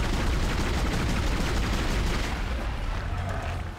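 Rapid gunfire from a weapon fired repeatedly into an enemy's back in the sci-fi horror video game Dead Space, a loud, dense, sustained barrage filling the whole stretch without pause.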